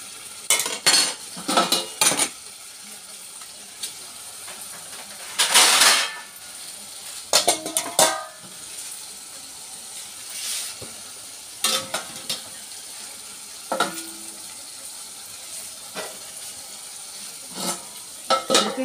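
Katla fish fried and stirred in a pan over high gas, with a soft background sizzle and scattered clinks and scrapes of a utensil against the pan, close and fairly quiet, with no talk.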